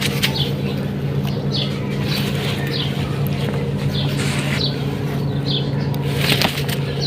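A pigeon with red-ringed eyes flutters and flaps its wings in bursts, close and fairly loud, over a steady low hum.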